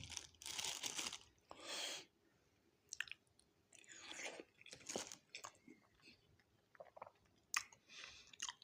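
Someone eats a soft white Bengali sweet from Bonoful with irregular bursts of close, wet chewing and smacking, separated by quiet gaps and a few brief vocal sounds.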